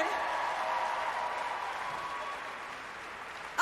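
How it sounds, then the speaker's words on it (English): A crowd applauds the women's individual podium finishers at the 2019 Rogue Invitational fitness competition, producing steady, dense clapping that holds at an even level for several seconds. "A big round of applause for your 1, 2, and 3 for the women's individual."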